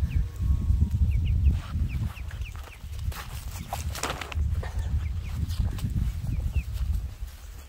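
Hens cluck and chirp in short soft bursts over a low rumbling background, the calls scattered and close by.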